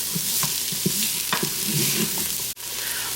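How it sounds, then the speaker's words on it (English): Chopped onion sautéing in an Instant Pot, giving a steady close sizzle with faint scraping stirs and a brief dropout near the end. "we will put the 1 onion into the Instapot, and we are going to saute them for about 5 minutes"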